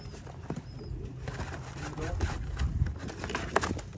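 Pigeons, including a blue bar racing pigeon, coo softly and flap their wings in a loft, with low cooing pulses and brief wing flutters close by amid faint background noise.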